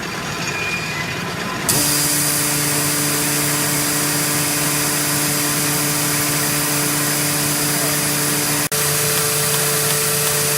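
An MBO Stahl Baumfolder feeder vacuum pump switches on after a moment of quiet and runs with a steady, loud hum and whine that holds evenly. A brief click cuts in near the end.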